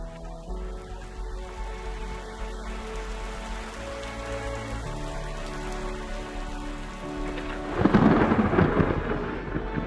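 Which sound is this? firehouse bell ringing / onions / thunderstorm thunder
thunderstorm thunder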